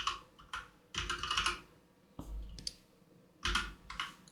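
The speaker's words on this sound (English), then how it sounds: "If I can reach my keyboard." Keys on a computer keyboard clatter in quick bursts of typing with short pauses between them, close and fairly quiet.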